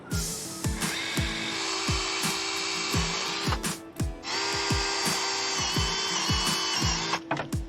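A small, narrow hand saw cuts through a tree branch close to the trunk during pruning, making a rapid, regular series of rasping strokes, close and steady, in two bursts separated by a short pause.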